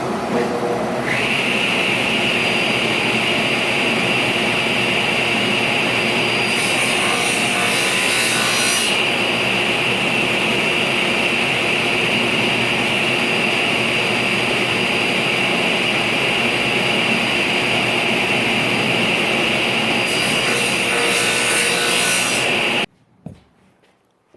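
A table saw set with its miter gauge at 90 degrees cuts wood blocks, giving a loud, steady motor whine that runs nearly unbroken for about twenty seconds, with brief rougher bursts as the blade bites, before the saw stops and winds down.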